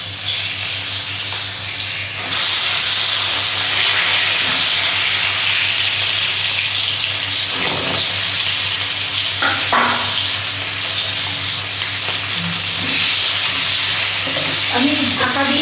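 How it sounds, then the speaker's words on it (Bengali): Whole garam masala, bay leaves, dried red chillies and cumin frying in hot oil, a loud continuous close sizzle with occasional stirring clicks and spatters, no talking. "জিরে। আমি ভেজে নিচ্ছি।"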